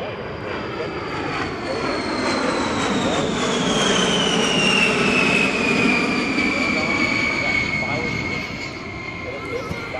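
A B-52 heavy bomber makes a flyby at an air show at Misawa Air Base, a loud, sustained jet roar whose pitch slowly falls as the aircraft passes, building and fading over about ten seconds.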